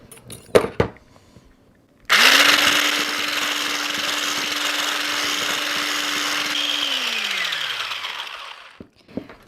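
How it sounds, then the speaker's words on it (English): A small hand blender with a whisk attachment whips cream. After a couple of sharp knocks, the motor starts abruptly and holds a loud, steady whine for several seconds, then winds down and ends with a clatter. "if you happen to have one of these little hand blenders with the whisk attachment on it"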